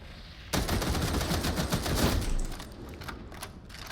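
Rapid gunfire bursts in Warhammer 40,000: Darktide, a dense stream of sharp shots starting suddenly and rattling on for about two seconds before tapering off into quieter scattered sounds.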